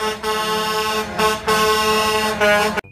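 A tow truck horn blares loudly and steadily in a few long honks with short gaps, ending abruptly.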